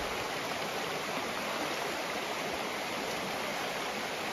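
Stream water rushing at a hiking ford, a loud, close, steady wash of flowing water that continues without a break and with no voices.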